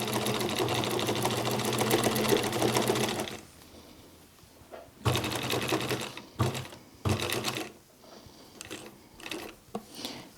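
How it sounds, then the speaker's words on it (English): A sewing machine stitches a cloth face mask in steady whirring bursts, first a long continuous run, then several short starts and stops while backstitching and following a curve. "Couple of stitches, make sure the needle's in the up position, back stitch, and then follow the curve around."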